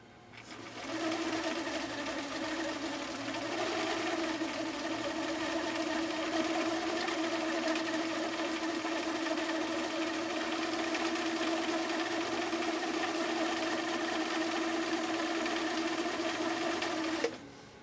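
A Viking 6370 sewing machine, restored from poor condition, runs continuously while sewing a lingerie stitch, a steady mechanical whir with rhythmic needle clatter lasting about sixteen seconds before stopping abruptly.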